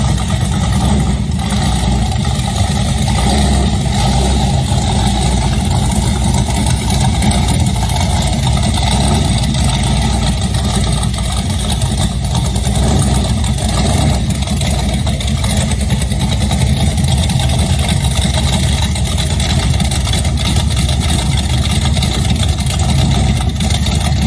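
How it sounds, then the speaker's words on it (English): Engine of a 1923 Ford T-bucket hot rod running steadily, a loud, deep rumbling idle with an even throb held throughout, close by and with no talk over it. "we're going to roll into your footage here with the sound of the car"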